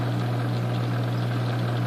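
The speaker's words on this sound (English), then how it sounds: "the sound you hear is vibration from the pump" An aquarium pump on a wet/dry filter hums with a steady low vibration, a constant even drone with a light watery hiss, quiet and unbroken throughout.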